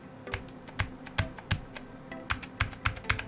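Crisp keystrokes clack on a custom M65-A mechanical keyboard mounted on neoprene strips, typed in quick irregular bursts of a dozen or so close, resonant clicks with no talking.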